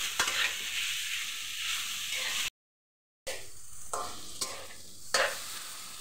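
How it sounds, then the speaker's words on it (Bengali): Bottle gourd peels fry in a pan, giving a steady crackling sizzle with scraping stir strokes, close and moderately loud, broken by a brief silent gap midway. "এটাকে আমি এখন ভাজতে থাকবো।"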